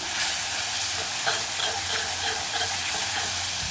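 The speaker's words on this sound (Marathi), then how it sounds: "हा मसाला व्यवस्थित तेल सुटेपर्यंत ही ग्रेव्ही शिजवून घ्यायची, तेल सुटेपर्यंत छान" A masala gravy for besan vada rassa simmers and sizzles steadily in oil, giving a continuous close frying hiss with faint stirring scrapes and a low hum underneath.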